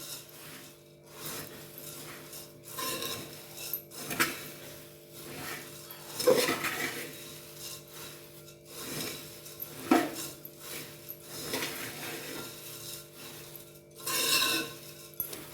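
Puffed rice bhel tossed with chilli powder in a bowl gives soft, scattered clinks and rubbing scrapes, with a few louder knocks against the bowl, and no voices.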